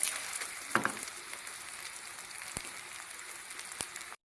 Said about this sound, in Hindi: इस तरीके से आपने इसको फ्राई करना है।